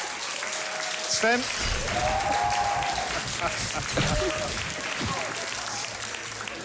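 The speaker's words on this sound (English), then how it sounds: "I assume you're applauding that I'm still standing." Applause rises and falls under a man's speech, mixed with scattered game-like beeps and effects.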